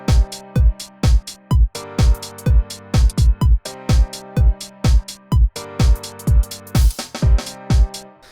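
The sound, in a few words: Alicia's Keys piano in Kontakt playing chords with drums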